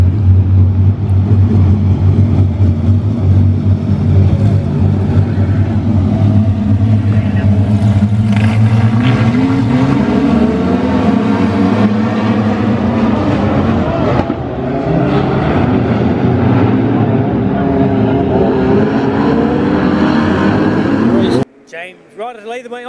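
A field of wingless sprint cars roaring off the start together, loud overlapping engine drone with rising and falling revs as the pack races, a commentator talking excitedly over it, then cutting off abruptly near the end.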